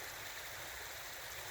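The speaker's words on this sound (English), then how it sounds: "I stopped at this gorgeous little creek here" Small creek flowing steadily along a hiking trail, a soft continuous rush and gurgle of water, fairly quiet and unbroken with no voices.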